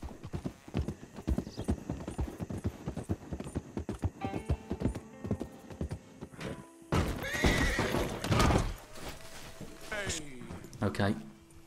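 Horse hooves and a neigh in the video game Red Dead Redemption 2, rapid galloping clip-clops followed by a loud whinny and scuffling, with a person talking over it.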